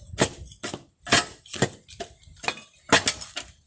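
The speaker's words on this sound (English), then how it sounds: "You use the fork to crumble the soil, because sometimes the soil is compact." A garden fork breaks up compacted backyard soil in a series of about ten sharp, crumbly thuds and scrapes at an uneven rhythm, close and fairly quiet.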